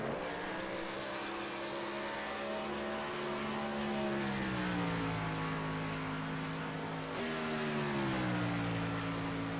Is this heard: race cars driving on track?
yes